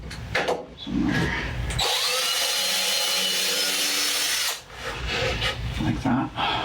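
Power drill running in wood during a final check on a Bolens machine, a loud continuous whine lasting about three seconds, framed by brief handling clatter and faint speech.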